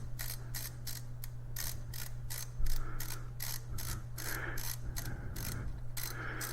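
Repeated ratcheting clicks from a torque wrench tightening bolts to a set torque on a Husqvarna 701 motorcycle, a steady run of close, crisp pawl ticks over a low constant hum.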